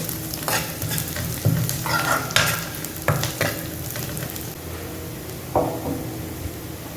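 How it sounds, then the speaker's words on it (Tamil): Dal (lentils) sizzle and crackle while browning in a hot pan for avarakkai paruppu kulambu, with a spoon scraping and stirring in irregular bursts; no talking. "நம்ம தால் சூப்பராக ஃப்ரை வச்சு கொஞ்சம் ப்ரௌன் ஆகும்."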